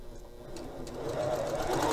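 An HD-9 sewing machine stitches a short line along a folded seam, a steady close mechanical whir that builds in loudness and runs alone without talk.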